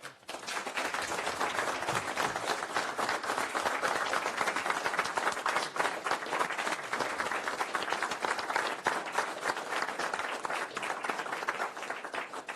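A county board meeting room fills with steady, dense applause for law enforcement officers who saved two lives, sustained and even throughout with no voices over it.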